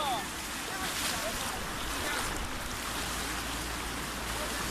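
Strong, fast-flowing waves of the Sharda river during a body recovery, heard as a steady, loud broadband rush of water with wind buffeting the microphone throughout.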